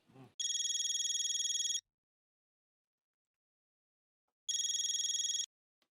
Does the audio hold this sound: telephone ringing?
yes